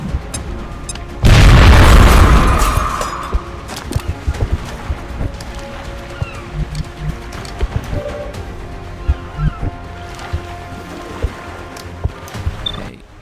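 A frag grenade goes off in the strategy game XCOM: Enemy Within with a loud, deep boom that rumbles for about two seconds and then fades into a busy bed of scattered clicks and light mechanical game sounds.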